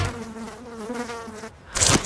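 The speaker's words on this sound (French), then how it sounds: "Je ne veux pas entendre une mouche voler." A housefly buzzing sound effect, a close, steady droning whine that wavers in pitch for about a second and a half, then breaks off into a brief louder burst of noise.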